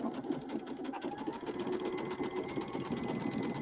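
A sewing machine stitches a quarter inch seam with a Q02 foot, a fast steady mechanical whir and rhythmic needle clatter running evenly and close throughout, with no talk.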